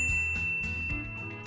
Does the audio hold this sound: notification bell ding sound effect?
yes